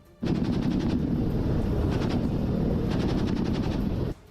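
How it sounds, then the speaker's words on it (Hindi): Russian army helicopters fire machine guns over a snow-covered area in the Russia–Ukraine war, a loud, continuous rapid rattle of gunfire with rotor noise underneath that cuts off abruptly after about four seconds. "बर्फ से ढके इलाके में अपने तय टारगेट के पास पहुंचते ही रूसी सेना के चॉपर ताबड़तोड़ फायरिंग करते दिखाई दिए।"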